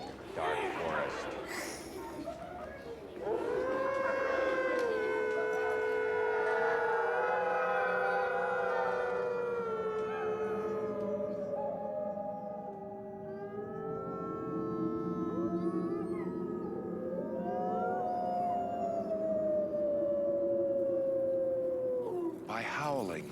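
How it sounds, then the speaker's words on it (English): Wolves howl in a dark forest at sunset, several long, rising and falling wails overlapping in a sustained chorus with a rough start and end, carrying clearly over a quiet background. "we've got wolves howling in the dark forest."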